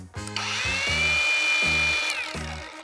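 A cordless angle grinder spins up with a high whine, runs steadily for nearly two seconds, then winds down, with clicks and thumps around it.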